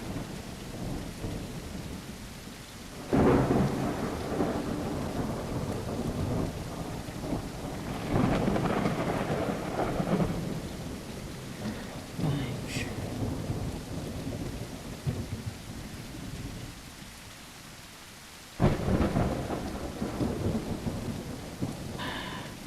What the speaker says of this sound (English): crack of thunder even, is actually making me jump something fierce